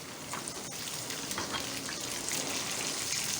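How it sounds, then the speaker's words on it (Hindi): A little water poured into a hot pan of spices and curry leaves while cooking arhar dal: a continuous bright hissing sizzle, steady and close throughout, with no talk. "इसके बाद मैं इसमें ज़रा सा पानी डालूँगी, ताकि मैं मसाले डालूँ वो जलें।"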